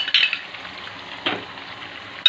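Hot tempering sizzles in a pan on a lit stove while onion chutney is cooked, with a steady close frying hiss broken by sharp metal scrapes and clinks of a spoon against the pan.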